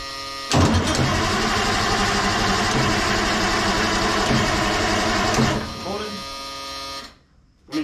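A Fiat-Allis wheel loader that had been sitting for over twelve years cranks and catches, its diesel engine running loud and rough for several seconds before winding down, with a voice speaking over it.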